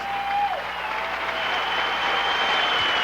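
A basketball crowd at a 1979 high school Parents Night game gives a standing ovation, steady loud applause filling the gym throughout, with a brief tone at the start.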